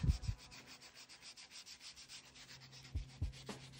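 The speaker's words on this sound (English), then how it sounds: "I was using little scraps of aluminum, and they scrape the rust away a lot faster" Small scraps of aluminum scraping rust off a vintage Raleigh 410 Capri bike, a steady rhythmic rasping of repeated quick strokes, with a few louder knocks at the start and near the end.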